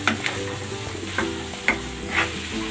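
Pork ribs with corn sauté with green onion leaves in a pan, a constant sizzle punctuated by a handful of spoon-stirring scrapes at irregular intervals.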